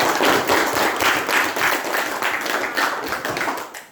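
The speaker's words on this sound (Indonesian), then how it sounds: "Tepuk tangan dulu untuk semua teman-teman." Audience at a school guidance training session clapping together, a dense burst of hand claps that holds fairly steady for a few seconds before tapering off.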